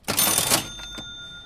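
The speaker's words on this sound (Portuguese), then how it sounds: "abra a nossa caixa registradora" A short cash register sound effect: a quick burst of mechanical clatter and a bell-like ding, then a ringing tone that fades out, loud and alone.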